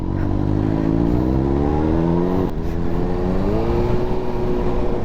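A Suzuki GSR 600 superbike engine drones loudly and close, its pitch climbing as it revs, with a brief dip midway before the rising whine continues.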